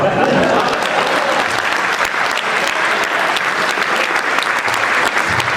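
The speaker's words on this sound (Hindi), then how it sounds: "इस पंक्ति पर आपकी तालियां चाहता हूं" Sustained audience applause at a Hindi hasya kavi sammelan comedy poetry recital, loud and steady for several seconds with no voices over it.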